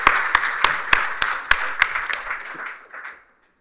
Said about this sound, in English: let's give a round of applause to Andy, to Tanya Prokopchuk, Vice President, to Ksenia Velichka, to all of the people of AmCham